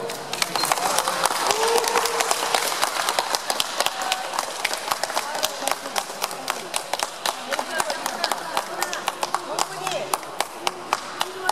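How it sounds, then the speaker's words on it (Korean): A crowd claps loudly and continuously after the result of the 26th Korean association president election. The dense, steady applause runs under overlapping talk. "박수."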